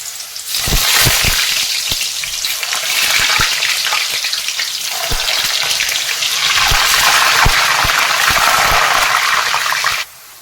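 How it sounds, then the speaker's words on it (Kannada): Homemade chips drop one by one into hot oil and fry in a loud, steady sizzling hiss with scattered crackles and pops, close up and continuous until it cuts off abruptly near the end. "ಎಣ್ಣೆ ಕೂಡ ಕಾದಿದೆ ನೋಡಿ ಈಗ ಒಂದೊಂದಾಗೇನೆ ಈ ಥರ ಹಾಕ್ತೀನಿ ಎಣ್ಣೆಯಲ್ಲಿ"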